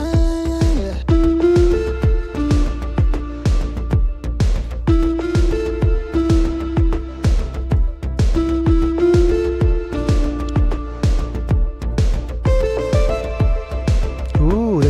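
Gibberish vocals sampled and played back as a pitched synth patch, repeating rhythmic plucky notes over a heavy low bass pulse in a loud, continuous electronic loop.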